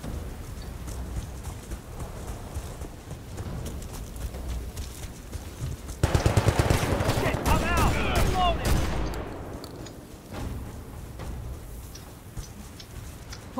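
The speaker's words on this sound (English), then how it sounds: "let's bring out our shotgun" Shotgun fire in the video game Battlefield Bad Company 2: a sudden burst of loud, rapid gunshots with clattering impacts, set against ongoing battle ambience that fades back to quieter background noise.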